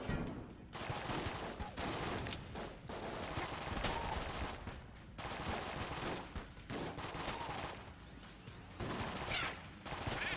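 Gunfire from a gun in the video game Enter the Gungeon: dense, continuous bursts of rapid shots with brief gaps, loud and steady across the whole stretch, with no talking.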